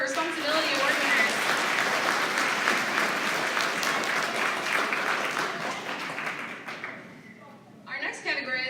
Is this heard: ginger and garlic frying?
no